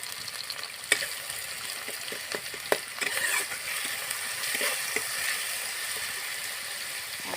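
Ginger garlic paste frying in a pan, a continuous close sizzle with intermittent clicks and scrapes of stirring against the pan, moderately quiet and free of speech.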